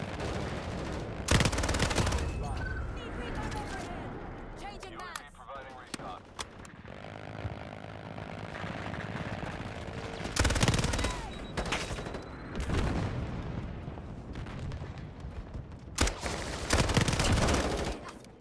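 A PPSH submachine gun in the Modern Warfare video game fires in several rapid bursts, loud and close, separated by quieter stretches where a person talks.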